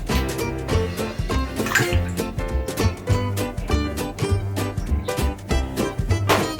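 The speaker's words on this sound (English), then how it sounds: "I'm going to measure our water. I need 180 ml." Water pours into a measuring cup for a vanilla cake batter, a steady close splashing trickle with ongoing gurgling and clinking over several seconds, with no talk.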